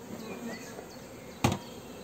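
Honeybees buzz softly around a hive frame during beekeeping, a faint steady hum with occasional passing whines and one sharp brief knock midway.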